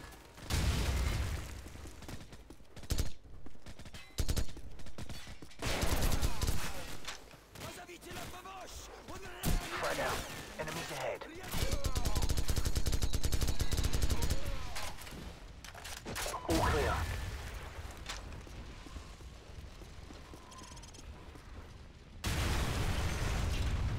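Call of Duty 4: Modern Warfare combat on a Russian nuclear site, with gunfire and explosions coming in separate loud bursts and booms among quieter gaps, and voices talking over parts of it.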